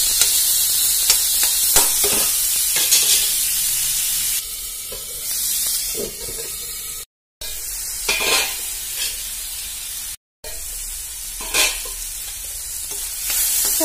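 Tomato pieces sizzle and hiss steadily in a pan with a lid on, the frying loud and close and broken by clinks and stirring scrapes. No one speaks.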